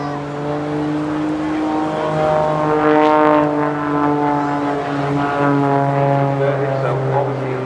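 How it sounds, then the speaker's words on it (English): A Pitts S2S jet-assisted aerobatic biplane at an airshow flies on propeller power alone, its engine a strong buzzing drone with shifting pitch as it manoeuvres overhead, loud and continuous. "Now he's back onto just the propeller."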